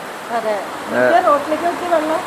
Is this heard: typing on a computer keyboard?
no